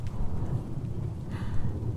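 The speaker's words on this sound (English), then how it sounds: "Rain sounds all good." Rain and thunder playing low behind an ASMR rainy-day scene, a steady soft rumble with patter, faint and continuous.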